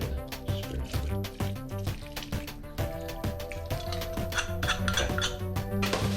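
A spoon clinks and scrapes against a pot while turmeric milk is spooned over chicken biryani, a busy run of close metallic taps and clatters.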